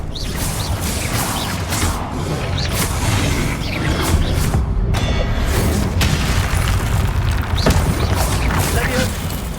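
Repeated booming spell blasts from the Hogwarts Legacy video game fire in quick succession amid whooshes and crashes, loud and busy, with a person shouting spell names over the combat.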